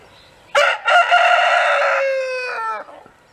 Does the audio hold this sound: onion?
no